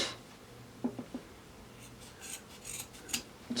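Scissors cut through fabric for tote bag strap pieces, giving several short snipping and rubbing sounds in quick bursts, close and moderately loud against a quiet background.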